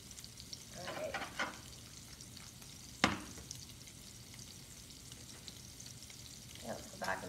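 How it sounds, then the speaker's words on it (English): Mushrooms sizzling in a pan after a splash of white wine, a soft steady frying hiss with a few spoon stirs and one sharp scrape near the middle, fairly quiet and close. "I'm going to go ahead and add our white wine to these mushrooms"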